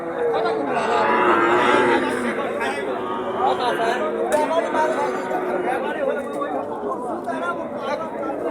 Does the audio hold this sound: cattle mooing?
yes